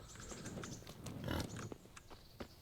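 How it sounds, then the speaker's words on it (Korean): Pig grunting in Kingdom Come: Deliverance, a cluster of low snuffling grunts peaking midway over a faint farmyard background with scattered clicks, quiet and moderately near. "뭐야 이 돼지는"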